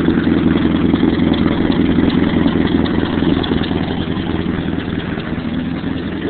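Kubota and John Deere tractor diesel engines idle after a cold start on a farm, a loud, steady, clattering mechanical rumble that stays constant throughout with no talking.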